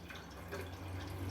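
Water running into a toilet cistern tank, a brief steady hiss and splash of filling water with faint dripping texture, fairly quiet and alone.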